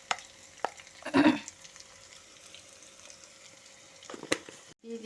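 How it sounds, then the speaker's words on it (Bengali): Whole cumin seeds dropped into hot oil after frying potatoes and pointed gourd give a brief crackling burst, followed by faint background sizzle and a few sharp utensil clicks near the pan. "এখন আমি এই তেলের মধ্যেই দিয়ে দেব জিরে ফোড়ন গোটা জিরে ফোড়ন"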